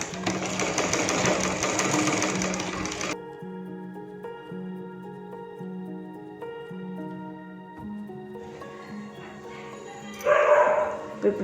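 An electric sewing machine runs fast for about three seconds, stitching a small folded hem on the sleeve of a readymade churidar. It stops, a voice talks over quiet room tones, and the whirring returns briefly near the end.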